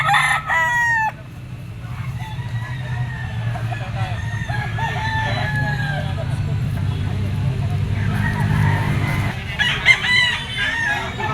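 Roosters and stags at a gamefowl farm crow repeatedly, several birds near and farther off, with clucks and someone talking throughout over a low background rumble.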